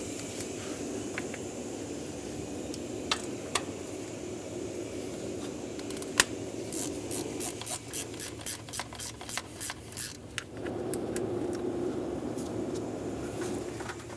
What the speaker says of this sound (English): Using an 8mm socket, we're going to remove the 2 bolts out of each rail.